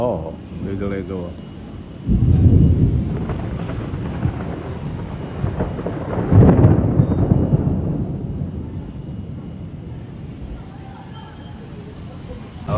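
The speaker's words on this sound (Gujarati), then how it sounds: "જો વીજળી થાય છે, કગડાટી વરસાદની થાય છે." Thunder rolls through a monsoon storm in Surat, two big rumbling swells rising and fading over steady rain noise, with people talking in the background.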